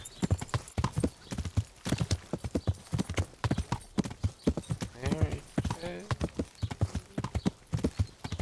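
Horse hooves clip-clop steadily in the medieval video game Kingdom Come: Deliverance, a brisk, even rhythm of close hoof strikes running throughout while someone talks over them.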